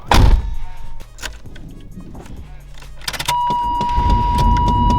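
A blue Chevrolet Blazer gets a few interior thunks and clicks. Then the engine cranks, catches after a sudden burst and settles into a steady idle hum.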